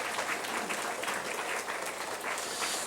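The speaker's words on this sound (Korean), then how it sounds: "다시 한번 뜨거운 박수로 감사의 표시를 드리도록 하겠습니다." A church congregation gives warm, sustained applause, a dense and even wash of clapping at moderate distance throughout.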